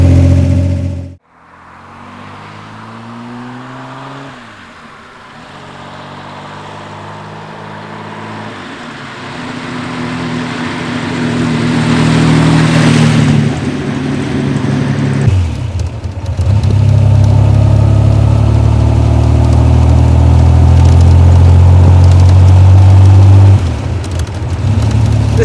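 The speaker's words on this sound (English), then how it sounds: "On the road in the 328 Roadster, Frazer Nash BMW, I should say." A 1939 Frazer Nash BMW 328 Roadster's six-cylinder engine idles, then pulls away on the road, revving through the gears with a loud, rising drone and brief dips at each shift.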